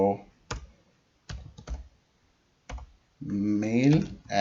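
Short bursts of clicking keys on a computer keyboard come as an email address is typed, spaced by pauses. A voice then starts talking close by.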